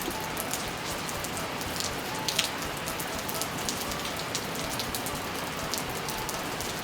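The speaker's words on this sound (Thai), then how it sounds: "ฝนตกแซะแซะแซะ" Steady rain patters densely on a surface nearby, a constant hiss with occasional sharper drops, no voices.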